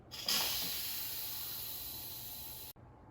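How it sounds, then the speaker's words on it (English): Quick pressure release on an Instant Pot cooking bone-in chicken breast: a loud, steady jet of steam hisses for a few seconds, fading only slightly, then cuts off abruptly. "let's quick release the remaining steam"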